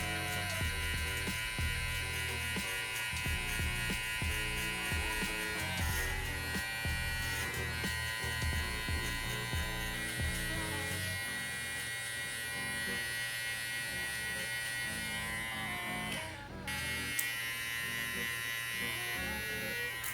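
Hair clippers with a 1.5 guard hum steadily at close range through a barbershop burst fade, worked clipper-over-comb, and the drone barely changes for the full length.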